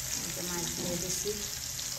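Arabic fish sizzles steadily in a pan on an electric stove, a continuous close frying hiss with faint stirring underneath.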